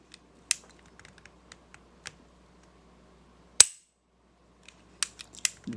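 Pistol hammer dry-firing on a double action handgun with the magazine out, sharp metallic clicks and snaps, one loud crisp snap mid-way and a quick cluster near the end, close and otherwise quiet.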